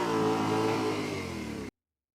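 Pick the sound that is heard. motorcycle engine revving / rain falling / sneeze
motorcycle engine revving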